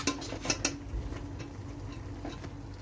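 Cooked rice is spooned over chicken mandi in a pot, with a few quick metallic clinks early on and then a faint, quiet scraping.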